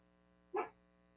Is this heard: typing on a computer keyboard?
no